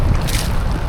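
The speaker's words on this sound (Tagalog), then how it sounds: "Tsaka grabe, malakas ang hangin." Strong wind blows over open water on a fishing trip in Manila Bay, a loud, constant roaring rush against the microphone with the low rumble of the boat, and no talking.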